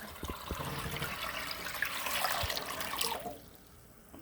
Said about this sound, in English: I am just going to now take water and completely cover these jars with water.